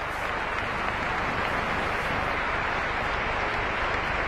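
Stadium crowd at a Real Sociedad versus Real Betis football match applauding an injured player, a steady, broad wash of clapping and crowd noise filling the whole stretch without pause.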